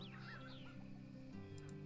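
Chickens cluck in a farm management video game, several short bird-like calls over a steady hum of game ambience and music, fairly quiet with no talking.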